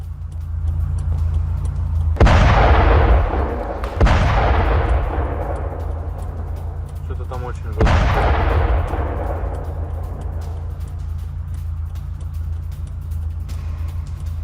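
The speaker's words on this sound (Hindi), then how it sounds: "ड्रोन से प्लांट पर हमला किया गया, जोरदार धमाका हो गया।" A drone attack on a synthetic sapphire plant sets off three heavy explosions, each a sudden loud boom with a long rumbling decay, over a constant low background rumble.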